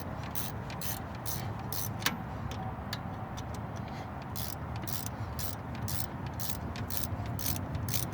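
A 12mm ring wrench works loose the front brake caliper bolts on a Jeep Grand Cherokee, giving a run of regular, fairly quiet metallic clicks over a steady background hum, with one sharper knock partway through.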